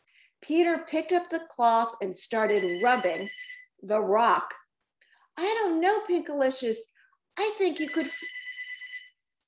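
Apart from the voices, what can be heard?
telephone ringing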